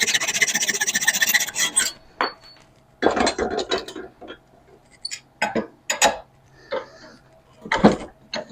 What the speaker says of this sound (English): First, I'm going to cut away the excess from the handle.